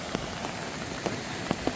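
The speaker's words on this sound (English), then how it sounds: "this rain, it's only supposed to be here for a moment, so I might actually just wait it out" Rain falls on a tent at a creekside campsite. It makes a close, even patter, with scattered louder drops tapping on the fabric.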